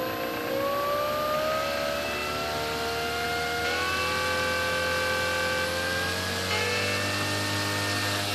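An electric motor on a Sig Four-Star 20EP model plane, fitted with larger propellers and held on the bench, whirs steadily at a sustained mid-power pitch, close and constant with slight shifts in tone.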